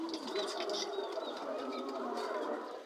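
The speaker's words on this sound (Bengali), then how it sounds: "এই দেখেন কিছু কবুতর" Pigeons cooing softly nearby in a low, continuous murmur, with faint chirps and background noise, no talk.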